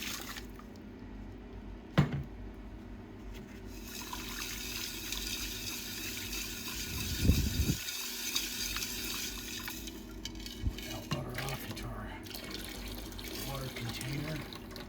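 Running water from a tap rinses pure silver crystals in a sink, a steady close hiss and splash with a few clinks and knocks.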